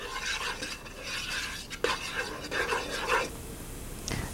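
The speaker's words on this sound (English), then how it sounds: "your onions, your olive oil, and your spices together, stirring for about 1 minute" Onions, olive oil and spices stirred together in a hot pan: a gentle sizzle with rhythmic scraping strokes of a utensil against the pan, plus a couple of sharper clinks, close and without talk.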